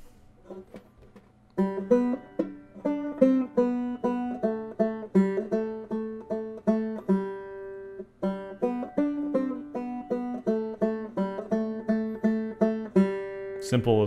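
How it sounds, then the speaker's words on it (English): Clawhammer banjo picks out the fourth bar of the Irish pub song All For Me Grog. Bright plucked notes and brushed strums ring alone in a steady bouncing rhythm, close and clear, after a faint lead-in. "And then for the fourth bar, it's going to sound like this."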